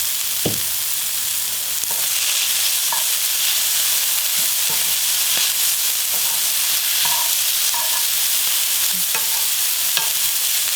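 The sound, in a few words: seaweed stems stir-frying in a pan with perilla oil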